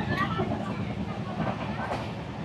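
Train rolling at speed on the Howrah to Digha line, a steady loud rumble with rhythmic low-end wheel noise and faint hiss throughout, close and continuous.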